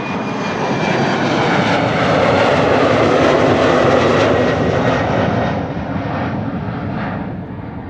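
An Embraer jet takes off at Amsterdam Schiphol Airport, its engine roar loud and steady throughout, easing slightly as it climbs away.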